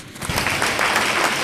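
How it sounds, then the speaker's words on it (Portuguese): A church audience at an evangelist's sermon in Winneba, Ghana breaks into applause, a short burst of many hands clapping together, steady and moderately loud. "Palmas para o evangelista."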